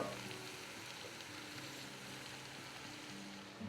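Leeks frying in melted butter in a pot on the stovetop, an even, soft sizzle and crackle heard close and continuous, with no one speaking.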